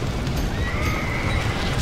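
A single horse in Red Dead Redemption whinnies after being slapped, a brief rising neigh over a dense, noisy game background.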